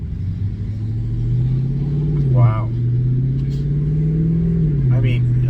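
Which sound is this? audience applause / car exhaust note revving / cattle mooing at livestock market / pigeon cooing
car exhaust note revving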